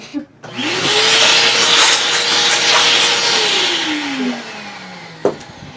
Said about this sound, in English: I have my little Costco shop vac that I'm going to use to suck up most of the visible trash